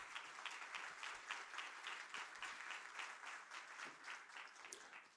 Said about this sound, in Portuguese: Eu pediria uma salva de palmas para o presidente Guilherme Serrano.